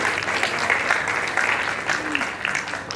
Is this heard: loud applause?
yes